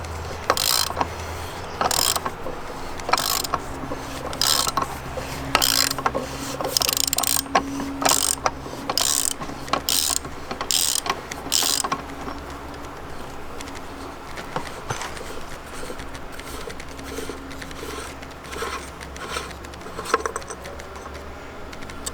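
A ratchet wrench loosens bolts on a Subaru differential during a Torq Locker install, giving a close, steady run of rapid clicking pawl strokes in repeated bursts over a continuous background hum.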